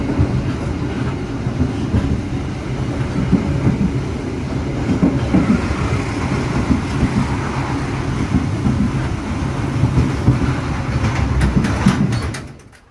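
A passenger train pulls out of Madiun station on the Jogja–Surabaya–Banyuwangi line, its steady rumble and rhythmic clickety-clack of wheels on rail joints carrying loud and close throughout, fading briefly at the end.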